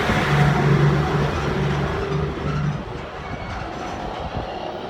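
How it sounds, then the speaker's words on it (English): A heavy truck passing by outdoors, a loud rumbling roar with a low droning tone that swells and then slowly fades as it moves away. "A truck right now is coming."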